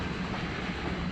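Train cars rolling on the rails, heard from inside a carriage with a window open as a dense, steady rumble and rattle with no clear beats, loud and continuous.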